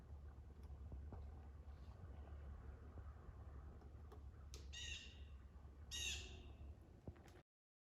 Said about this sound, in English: That's a big woodpecker.